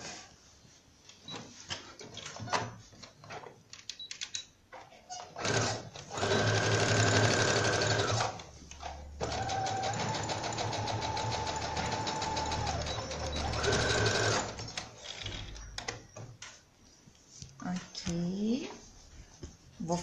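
A sewing machine stitching the bottom seam of a pinned fabric Christmas reindeer, running in two long continuous whirring bursts with shorter starts and stops around them, close by, with talking in between.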